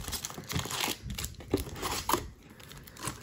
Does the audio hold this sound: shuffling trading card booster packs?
yes